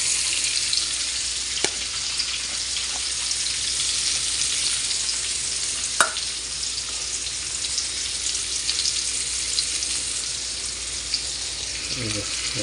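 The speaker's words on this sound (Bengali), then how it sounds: "রসুন দিতেছি।" Garlic frying in a pan, a constant bright sizzle with occasional sharp clicks of utensils against the cookware, close and alone without speech.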